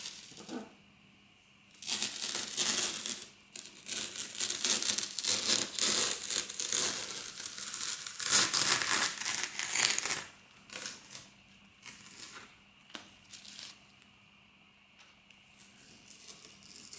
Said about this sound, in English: it's not a bad idea to remove now the masking tape before the glue sets